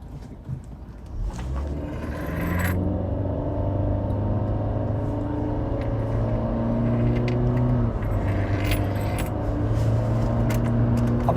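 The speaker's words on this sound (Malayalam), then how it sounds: "അപ്പോൾ സിറ്റി ഒന്ന് ലോഞ്ച് ചെയ്ത് കാണിച്ചു തരാം ഞാൻ. അപ്പോൾ സ്പോർട്ട് മോഡൽ തന്നെ ഇട്ട് ലോഞ്ച് ചെയ്യാം." A 2020 Honda City sedan in sport mode launches from a standstill. After a short idle the engine note climbs into a steady, loud, sustained drone as the car accelerates hard, with no voices over it.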